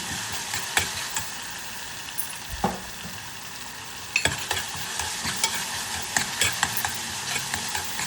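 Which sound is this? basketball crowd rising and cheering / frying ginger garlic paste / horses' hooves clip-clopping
frying ginger garlic paste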